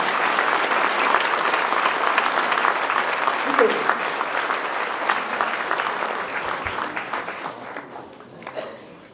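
Sustained audience applause at a mayor's New Year address in Notre-Dame-de-Gravenchon, dense steady clapping from a large crowd that holds loud for most of its length before thinning out toward the end.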